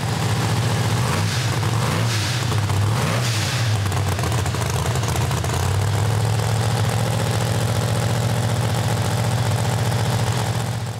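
A Pro Mod Hemi engine idles on its secondary injectors, a deep, loud, steady rumble close by, with a few brief revs and throttle blips early before it settles back to an even idle.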